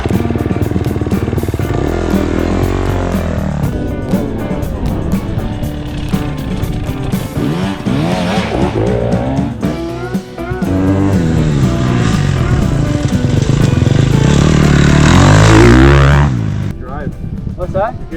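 Dirt bike accelerating hard out of a corner on dirt, engine revving loud and close as it pulls through the gears, with people talking over it.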